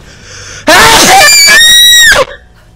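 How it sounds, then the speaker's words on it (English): Exaggerated, loud, drawn-out theatrical sneeze voiced by a man, a single burst lasting about a second and a half, close and alone. "Oh mate, I'm gonna sneeze."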